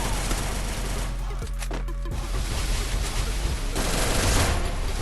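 Rapid automatic gunfire in a shooter video game, a dense, continuous burst of shots filling the whole stretch, with loud game sound throughout and a brief lull in the middle.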